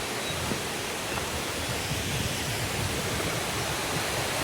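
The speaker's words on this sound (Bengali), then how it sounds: "এই ঝর্ণার শব্দ আমরা আমাদের ঘনিষ্ঠ থেকে পাচ্ছিলাম, আর এখান থেকে পাচ্ছি" Chhange Waterfall roars in a steady, unbroken rush of water, continuous and fairly even throughout, heard alone without voices.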